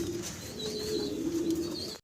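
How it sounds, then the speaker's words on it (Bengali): Pigeons in a farm cage, including a large German Cropper and a Henna Pouter, give a soft, low cooing with faint chirps, fairly close but quiet, with no talk over it. "সিঙ্গেল 2 পিস কবুতর দেখাচ্ছি"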